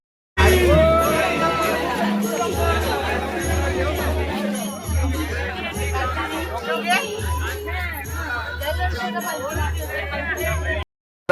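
A dense crowd fills a Ganesh immersion site with a steady babble of many voices, with bursts of cheering, a tinkling bell and a pulsing low drum beat running underneath.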